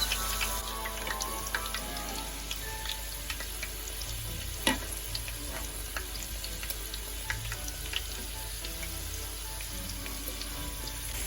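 Thiples, thin sheets of Greek Christmas dough, frying in hot oil with a steady soft sizzle and scattered small crackles and pops throughout, one sharper tap near the middle, no voices.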